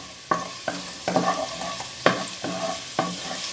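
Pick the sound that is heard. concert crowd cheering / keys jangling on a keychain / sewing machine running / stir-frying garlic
stir-frying garlic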